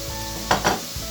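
Oil sizzles in a hot pan as something is sautéed, a short close crackling burst with a couple of brief louder hisses.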